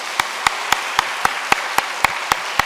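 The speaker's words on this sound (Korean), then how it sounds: "박수 한번 쳐주세요." Church congregation clapping in a slow, evenly spaced rhythm, about ten sharp single claps in a steady beat with no talking.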